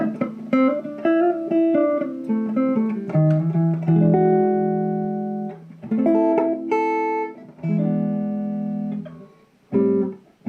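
Electric guitar played through a single pickup: a clean, close melodic line of single notes and chords with clear sustain and brief pauses between phrases, no voices.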